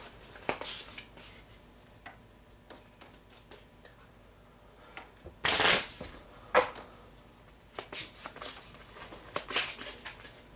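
Playing cards shuffled during a Forbidden Fortress board game session, quiet riffles and soft flicking bursts with a louder shuffle midway, plus light ticks and handling noises, near and without speech.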